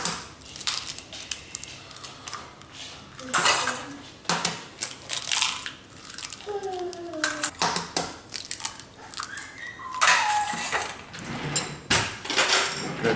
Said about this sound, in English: Grab yourself a fork and just mix those up.